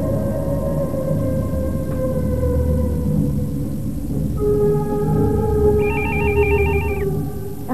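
A telephone rings in an office with steady electronic ringtone tones, loud and close, and a higher warbling chirp joins late in the clip.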